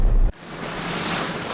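Wind and rough waves on the open sea off Pohang, recorded from a boat. A loud buffet cuts off abruptly, then broadband wind and surf roar steadily.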